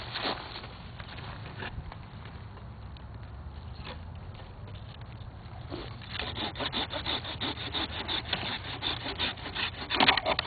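Rasping saw strokes cutting through a muscadine grape vine during pruning, close and fairly quiet, growing louder and quicker toward the end with no talk.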